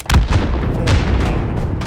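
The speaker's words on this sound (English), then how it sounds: "Oh, that was a big explosion." Heavy World War I gunfire and a deep blast in the Italian-front mountain shooter Isonzo, with a loud boom up front followed by sustained rumbling battle noise and distant shots throughout.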